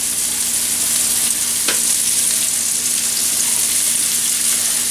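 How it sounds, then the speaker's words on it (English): Sausage frying in a pan while it is stirred, giving a steady, close sizzle throughout with a brief scrape partway through. No one speaks. "keep an eye on the sausage and keep stirring it so you won't overly cook the sausage"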